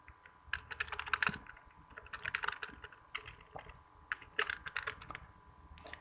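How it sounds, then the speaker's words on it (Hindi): Rapid, close clicking of computer keyboard keys as a tagline is typed, irregular bursts of keystrokes with short pauses, no voices. "दोबारा से मैं टाइप टूल को सिलेक्ट करता हूँ और यहाँ पे मैं टाइप करता हूँ टैग लाइन"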